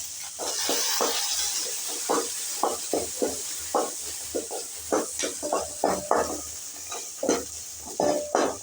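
Garlic and dried red chillies are sautéed in a pan, with soft sizzling beneath a run of irregular scraping and clinking stirring strokes from a spoon against the pan.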